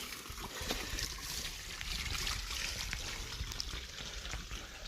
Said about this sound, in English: A water fountain outside Refugi de Claror.